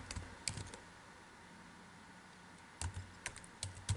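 Computer keyboard typing code, bursts of keystrokes at the start and again near the end with a quiet pause between, close and alone.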